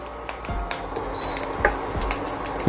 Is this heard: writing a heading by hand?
no